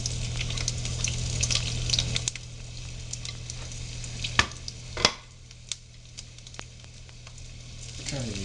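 Garlic frying in a pan for a spicy brinjal curry hisses loudly at first, then settles to a quieter sizzle broken by a few sharp clatters of a utensil.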